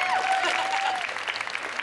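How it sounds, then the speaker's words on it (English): Brief burst of audience applause at a large fashion show event in a Birmingham exhibition hall, dense clapping from a crowd with a faint tonal squeal early on. "That deserves a clap."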